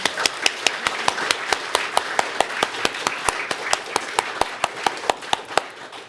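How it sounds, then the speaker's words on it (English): A single person clapping at a temple service, sharp evenly spaced claps in a steady brisk rhythm, close and clear over a low background murmur. "So one more round of applause, please."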